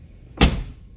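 The driver's door of a 1987 Mercury Grand Marquis swings open quietly, a single brief soft thunk with a short muffled rustle fading after, close by in near silence.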